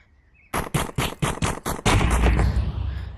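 Gunfire from an animal-themed shooting video game: a rapid string of about seven sharp, loud shots in even rhythm, then a heavier sustained burst that trails off into a noisy rumble.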